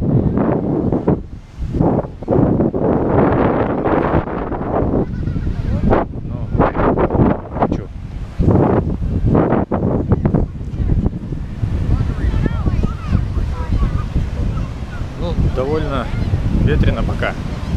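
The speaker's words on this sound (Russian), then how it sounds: "Ветрено пока и прохладненько сегодня." Strong wind buffets the microphone on Indian Rock Beach in St. Pete, Florida, gusting loudly and unevenly throughout while a person talks over it.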